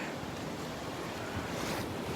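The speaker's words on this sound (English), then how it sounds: "How the waves overlap the sand like that." Ocean surf at Delnor-Wiggins beach washes up over the sand, a steady broadband wash with gentle swells and a touch of wind, continuous and moderately close with no voices.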